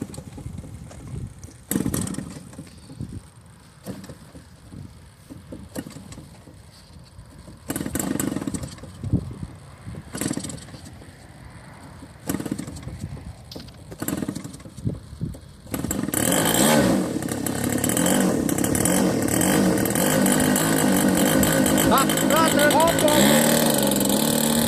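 RC model airplane engine at an RC flying field, idling with intermittent bursts under people talking nearby, then throttled up into a loud, steady, continuous roar for the last several seconds.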